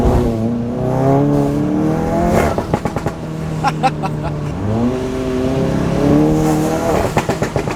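A Stage 2 tuned VW GTI accelerating hard, its engine rising loudly through the revs with quick shifts and blow-off chatter between gears, heard close from inside with a little talk.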